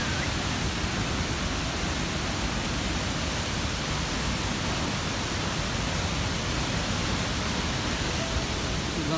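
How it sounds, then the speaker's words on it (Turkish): Big waterfall in Rize's Çamlıhemşin area pours with a loud, constant hissing roar, close and unbroken for several seconds, its texture steady throughout with no talking heard. "Sonra şelale aşağıda."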